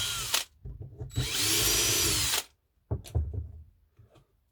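A power drill bores holes in Scalextric Sport track on a wooden baseboard, short close bursts with a sustained high whine in the middle and brief spin-ups before and after, separated by silence.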